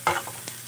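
Garlic sautéing in a pan toward golden brown, a short close burst of sizzle and spatula scraping followed by a second lighter scrape.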